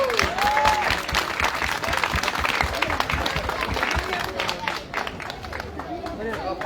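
An audience claps and cheers throughout at an outdoor event with passing performers, a dense continuous applause with crowd chatter and voices mixed in.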